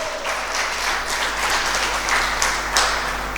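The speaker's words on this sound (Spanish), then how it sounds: "Denle un fuerte aplauso al Señor." A church congregation applauding during an Easter sermon, a broad continuous wash of many hands clapping, fairly loud and steady over a low constant hum, lasting a few seconds without speech.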